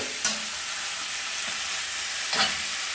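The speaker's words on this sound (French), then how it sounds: "le but, c'est de bien saisir de façon rapide" Beef sears rapidly in a hot wok with onions, a constant bright sizzle broken by a couple of scraping stir strokes.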